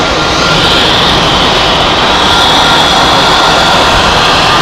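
Edelweiss jet airliner in Help Alliance livery at Zurich Airport, a loud, steady broadband engine roar holding evenly close by throughout with no voices.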